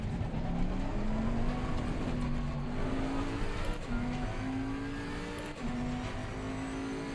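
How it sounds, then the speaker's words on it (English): A race car closing in from behind at Bathurst in a racing video game, its engine a steady, rising drone that holds loud throughout with slight pitch shifts as it revs, with no talk. "Yep, that's the car right behind me."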